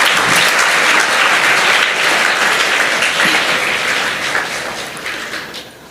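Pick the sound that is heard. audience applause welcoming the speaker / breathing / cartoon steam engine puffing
audience applause welcoming the speaker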